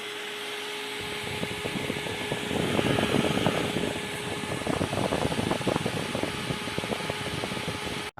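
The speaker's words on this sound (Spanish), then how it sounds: "se implementaron ventiladores que generan un flujo de aire para disipar esta energía fuera del gabinete" A steady, loud mechanical whir of the cabinet cooling fans on a high-energy ball mill starts after a brief silence and runs unbroken, with a dense rattling hum throughout.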